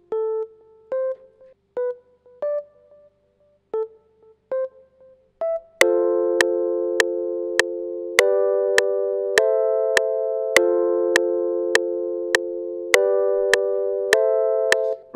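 A Lounge Lizard electric piano plugin in FL Studio plays a few soft, sparse single notes, then a loud, even series of sustained chords struck at a regular pulse, each attack bright and ringing.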